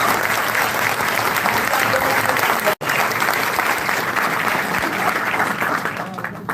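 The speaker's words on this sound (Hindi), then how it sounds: "एक बार अपने लिए मेरे तरफ से जोर से ताली बजाइए।" Loud, sustained audience applause fills the room at a motivational guidance session for Bihar police driver candidates: dense clapping with a brief cut partway through, then continuing steadily to the end.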